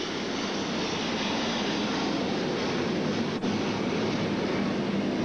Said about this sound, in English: Rick Camp checking out the airplanes in the bullpen. And we are right in the flight path today